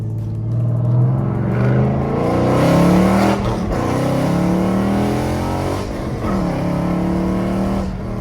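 A Dodge Challenger with a stage 2 cam revs hard while its tires spin, the engine note climbing and falling in several loud, close sweeps with brief dips between them.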